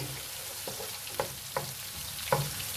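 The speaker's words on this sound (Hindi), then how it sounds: "और साथ हमें इसके अंदर डाल देनी है चिली, हमने डालनी है इसके अंदर। और इसको 30 सेकंड के लिए आप फ्राई कर लें।" Chili frying in oil in a pan for mutton karahi keema, a soft steady sizzle with a few sharp clicks of a spoon stirring against the pan, faint and close with no talk.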